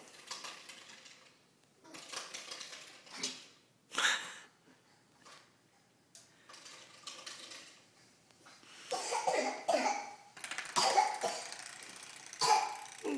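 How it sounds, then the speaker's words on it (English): Baby coughing several times in short bursts, close by, with quiet rattling household clatter between coughs. "Got a cough."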